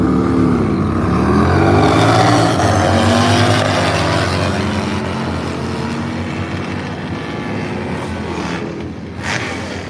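Sportsman-class motorcycles at a Q1 drag racing session roar past, a loud high-revving engine note that sweeps up and fades as the bike pulls away, heard at a distance with no talk.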